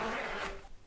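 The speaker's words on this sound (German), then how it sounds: "Also noch ein Reißverschluss." A skirt's zipper is pulled up in one quick, close, raspy zip lasting under a second, fairly soft and heard alone.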